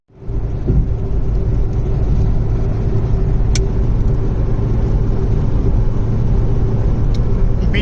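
A Maruti Swift AMT CNG cruises on an expressway at high speed. It makes a loud, constant rumble of engine and road noise from inside the cabin, steady for several seconds after a quick fade-in, with a few small clicks.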